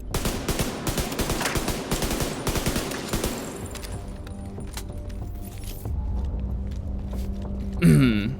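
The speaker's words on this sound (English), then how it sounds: "Gun sounds really weird." In The Division 2 on PC, rapid bursts of gunfire crackle for the first few seconds, then ease into quieter mechanical clinks and a faint hum, with a sudden sharp sweep near the end.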